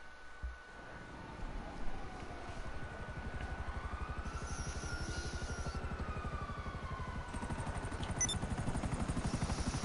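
A helicopter in the game GTA comes down onto a helipad, its rotor a steady, fast low thudding that builds slightly over about ten seconds with a faint engine whine above it.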